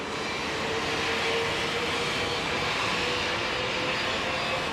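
Heavily laden freight train on the Brenner route through Italy, passing as a steady, continuous rumble with a faint high tonal whine, fairly distant and unbroken by voices.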